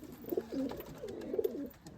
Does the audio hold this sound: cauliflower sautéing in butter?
no